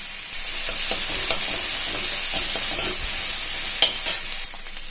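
Onion sizzles in hot oil with mustard seeds and urad dal, a steady bright frying hiss close by, punctuated by a few louder stirring scrapes and spatters.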